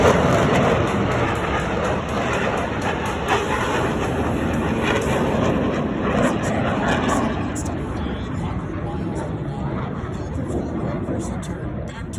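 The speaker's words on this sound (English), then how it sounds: "Smoke trails as all four aircraft converge on center point with maximum closure and minimum separation." Blue Angels jets converging on center point at the MCAS Miramar airshow, a steady broad roar of jet noise that persists throughout, with an announcer talking over it.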